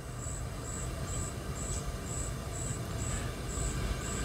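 A lively forest soundscape plays through the Kia ProCeed GT 2020's UVO infotainment system, with regular high cricket chirps pulsing over the low rumble of the car cabin.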